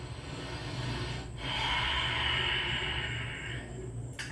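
A long, full breath drawn in and released during a slow bedtime stretch for beginners, a steady airy rush that swells for a couple of seconds and then fades, with no talk.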